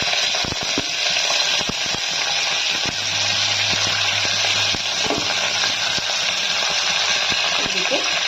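Chopped onions hitting hot oil in a pan for Indian methi rice, a loud steady sizzle and bubbling fry with a few clinks of utensils, no talk over it.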